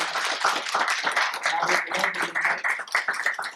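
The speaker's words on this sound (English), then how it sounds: "Give a round of applause for this lovely conversation." An audience at an author Q&A and poetry event breaks into applause after the talk, a dense stretch of many hands clapping at once at moderate loudness.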